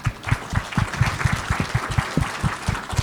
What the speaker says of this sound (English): a round of applause for leadership coming from London